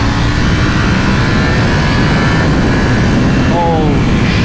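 A 2020 Ducati Panigale V4S motorcycle engine pulls hard while accelerating on the road, heard as a loud, steady roar mixed with heavy wind rush, its pitch climbing near the end.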